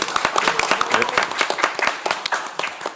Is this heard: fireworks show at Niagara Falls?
no